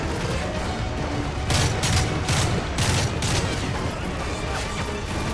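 Rapid gunfire in Call of Duty Modern Warfare 3 crackles as dense bursts over a loud, busy battle din, with several sharper volleys clustered near the middle.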